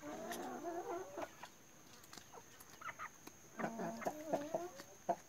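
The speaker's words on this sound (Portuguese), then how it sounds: "olha só essa galinha aqui, bem mansinha, um pouquinho curiosa" Chickens cluck in a backyard, with a tame, curious hen close by. The clucks come in scattered bursts, heavier at the start and again near the end, with no talk.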